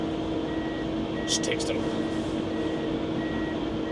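A Pistenbully 400 Park Pro snow groomer sounds a warning alarm, a thin repeating beep at steady intervals over a constant engine rumble, with brief talk over it.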